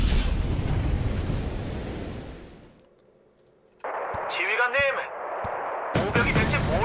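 Artillery fire in the war strategy game Wargame: Red Dragon, a heavy rumbling roar that fades to near silence before loud booming bursts return, with whistling shell tones and a voice speaking in between.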